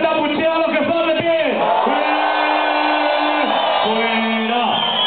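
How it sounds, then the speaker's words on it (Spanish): At a summer DJ party in San Martín de Valdeiglesias, Madrid, a crowd lets out long, loud boos and yells in drawn-out waves, with several sustained vocal blasts rising and falling close by. "Fuerte abucheo a los que están de pie."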